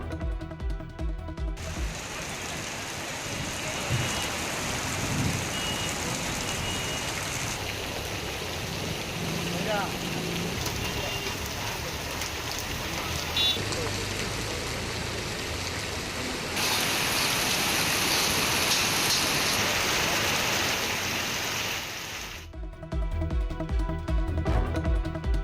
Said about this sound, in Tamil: சென்னை, திருவள்ளூர் மாவட்டங்களின் பல்வேறு பகுதிகளில் பரவலாக மழை.